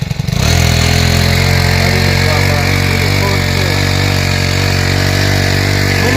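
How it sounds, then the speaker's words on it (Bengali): A mini tiller engine roars to life at close range on a farm, then runs steadily and loudly with a continuous rough mechanical drone throughout. "মিনি টেলার অনেক সুন্দর কাজ করে।"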